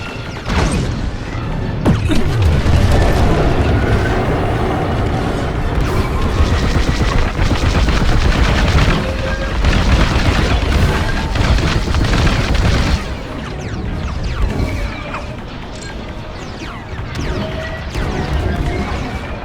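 Dense laser-cannon fire and booming explosions from a Star Wars Squadrons space dogfight, a continuous loud barrage of blasts and crashes with no voices.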